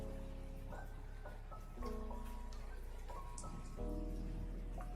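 Rain falling steadily in a small town, a soft continuous patter with scattered drips under a faint background hum, quiet and distant.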